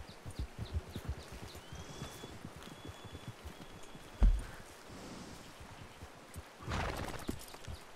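Horse hooves clip-clop in a Western video game, a rapid rhythmic patter of soft thuds at moderate distance over wind noise, with a sharp thump midway and a swell of noise near the end.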